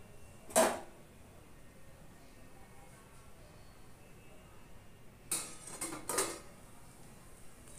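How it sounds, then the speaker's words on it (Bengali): A metal lid lifted off a pan of simmering শুশনি শাক (water clover greens) being cooked as a bhaji, giving a sharp clink near the start and a cluster of rattling, clattering knocks later, close by in a quiet kitchen. "এবার দেখো বন্ধুরা এখানে ঢাকনা খুললাম আবার।"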